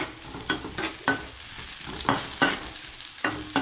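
Chopped onions fry in a hot pan, a steady sizzle broken by sharp scraping strikes of a utensil stirring them at uneven intervals, close and fairly loud with no talking.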